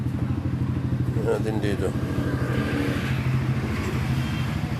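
A modified automatic washing machine's motor spins with a steady, close, droning hum that holds at a constant pitch throughout, while someone speaks briefly over it.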